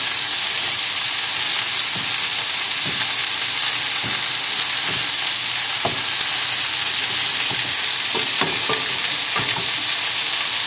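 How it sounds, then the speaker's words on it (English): Tomatoes stirred and pressed against the side of a pan as they fry, a steady loud sizzle with repeated scraping and knocking of the utensil throughout, no talking. "So just keep stirring your tomatoes and just lightly pressing them against the side of the pan."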